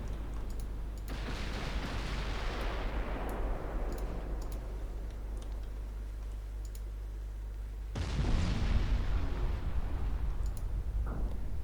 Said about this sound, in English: That torpedo just changed direction and then detonated